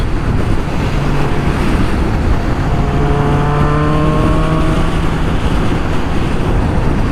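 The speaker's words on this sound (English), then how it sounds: "For that Vance & Hines 4-in-1 exhaust, this motorcycle growls." Loud, continuous engine rumble with wind buffeting from a 1994 Kawasaki Ninja ZX-11 with a Vance & Hines 4-into-1 exhaust, the note rising and sliding in pitch as it revs and pulls away.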